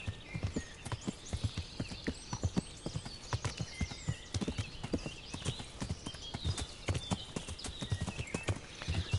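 Horse hooves clip-clop in a steady, close, rhythmic gait in the medieval video game Kingdom Come, alongside ambient outdoor sounds and no talk.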